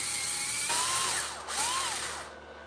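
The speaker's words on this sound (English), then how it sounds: "I'm going to use my drill press." A drill press bores a hole in a metal wheelie bar mount, a steady close whine with pitch sweeps as the bit bites and eases, fading out at the end.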